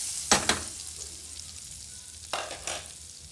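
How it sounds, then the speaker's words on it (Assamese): Butter melts in a kadai for chicken butter masala with a steady soft sizzle, broken by two pairs of close spatula scrapes against the pan. "মই এটা কেৰাহীত অলপ বাটাৰ দি লৈছোঁ।"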